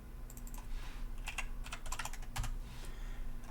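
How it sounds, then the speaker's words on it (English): Fingers tap a computer keyboard in short irregular bursts of quiet clicks, close and soft, with pauses between runs of keystrokes. "Next, I'm going to type in my entry."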